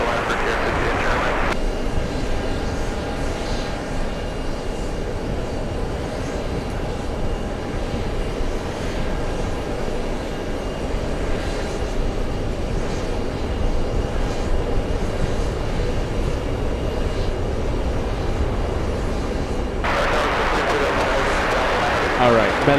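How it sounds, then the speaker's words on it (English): A heavy Boeing 777 landing on runway 22 left at JFK, a broad continuous engine roar with dense low rumble held loud for the full length, overlaid by talk. "Heavy 777 touching down, collision with turbulence, runway 22 left, clear to land"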